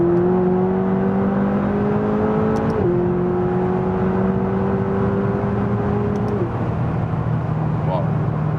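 McLaren 570 engine accelerating hard on the Autobahn, a loud sustained whine climbing in pitch through two upshifts with brief dips, heard from inside the car while people talk.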